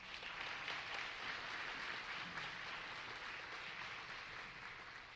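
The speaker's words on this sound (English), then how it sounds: "go ahead and clap for her" Quiet, distant applause for a graduate at an IB hood ceremony, a soft steady wash of clapping from an audience that slowly fades.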